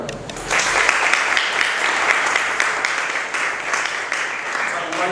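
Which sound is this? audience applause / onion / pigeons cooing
audience applause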